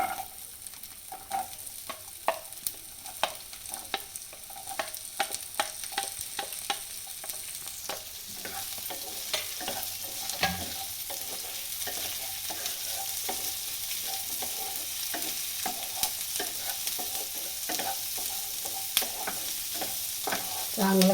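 Chopped onions frying in a little oil on a pan, a steady close sizzle running throughout with frequent scraping stir strokes layered on top.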